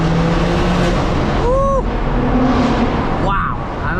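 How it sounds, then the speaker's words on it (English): A BMW M6 engine roars continuously with rough, throaty rumble on a New York City street, briefly rising in pitch as it revs, with people talking faintly nearby. "Yeah, that M6 is loud."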